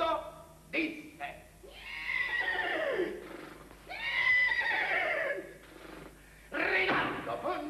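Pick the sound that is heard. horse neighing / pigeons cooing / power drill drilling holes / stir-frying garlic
horse neighing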